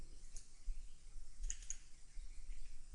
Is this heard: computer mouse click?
yes